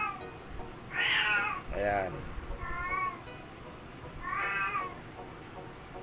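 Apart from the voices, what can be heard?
cat meowing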